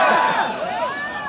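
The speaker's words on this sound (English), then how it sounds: "let's give them a round of applause." Cheering voices and crowd noise at a candidate's campaign rally, Yangapalooza in Des Moines, Iowa, in a brief, loud burst with rising whoops over the general roar.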